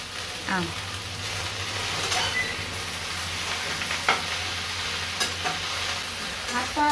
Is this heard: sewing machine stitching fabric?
no